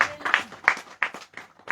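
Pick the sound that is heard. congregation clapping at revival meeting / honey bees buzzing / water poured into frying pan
congregation clapping at revival meeting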